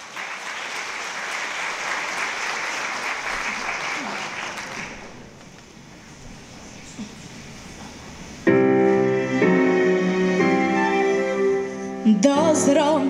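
An audience at a youth talent gala in Mielec claps warmly after a school performer is introduced, a dense sustained round of applause that fades before piano music begins.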